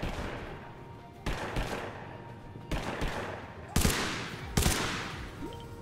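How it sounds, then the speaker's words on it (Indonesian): Several sharp video game gunshots in Totally Accurate Battlegrounds crack out at intervals, a couple of louder bursts near the end, over a steady background hum. "Ah, ada tembakan tuh."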